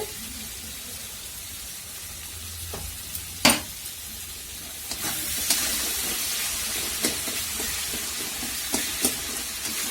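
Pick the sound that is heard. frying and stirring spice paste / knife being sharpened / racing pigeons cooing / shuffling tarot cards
frying and stirring spice paste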